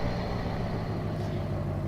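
A truck engine in Farming Simulator 19 idles as a steady, continuous low rumble, loud and close, with no clear air brake hiss standing out and no talking.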